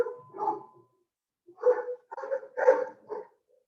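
A pet dog barks indoors, one short bark followed after a pause by a quick run of four or five yapping barks, fairly close and moderately loud with no talk over them.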